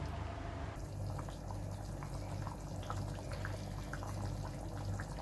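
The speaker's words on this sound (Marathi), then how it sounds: "आणि आता छान 10 मिनिटासाठी आपण बारीक गॅसवर उकळून देऊ." Misal curry simmers in a pot over a low gas flame, a soft continuous bubbling over a faint steady hum, quiet and close, with no voices.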